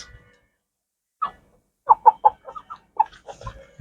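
Backyard chickens cluck in short bursts while waiting for feed, a rooster among them; several close, moderately loud calls come in an irregular cluster after a brief quiet start.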